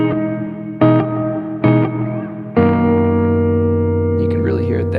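Guitar chords played through an Alabs Cetus reverb pedal set to maximum pre-delay, loud and close, with three short strums and then a sustained ringing chord whose reverb swells in after a delay.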